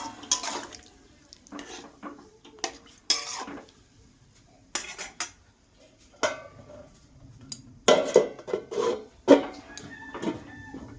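Gourd and meat curry stirred in a pot, with irregular scraping and rasping bursts of a spoon against the pot and a few clanks as a lid goes on, fairly close with quiet gaps between strokes.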